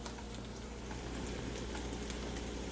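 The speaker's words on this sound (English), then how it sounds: "we're going to be lowering our temp now and just kind of let that simmer a little more" Orzo pasta simmers in broth on lowered heat, a faint steady bubbling with small scattered pops and ticks.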